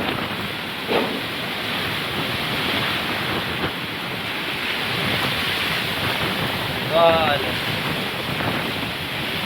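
Strong wind gusting around a village cattle shed on a dairy farm, a continuous broadband roar with microphone buffeting, steady and close throughout.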